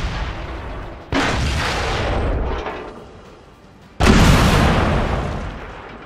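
Two loud, close tank cannon shots in a World of Tanks match, each a sharp boom followed by a long rumbling decay, spaced about three seconds apart.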